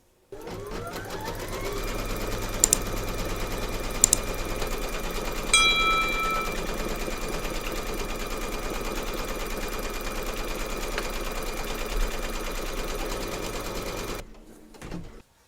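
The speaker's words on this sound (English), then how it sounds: "Pop your hoop into your machine and stitch round number 2 to secure it." An embroidery sewing machine stitching fabric held in a hoop, a steady rapid mechanical whir with faint ticks running continuously for about fourteen seconds before stopping.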